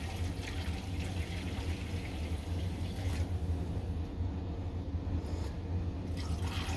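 Currant Saison yeast starter poured from a single flask into wort, a steady continuous liquid splash and trickle at close range with no talk.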